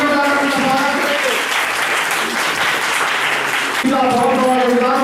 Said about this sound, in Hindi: हम सभी तालियों का स्वागत करेंगे।